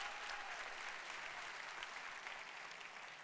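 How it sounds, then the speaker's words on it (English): Sustained applause from an evening arts event audience honoring teachers, a dense, steady wash of many hands clapping at even loudness throughout, slightly distant and without any speech on top. "So another big round of applause for the teachers."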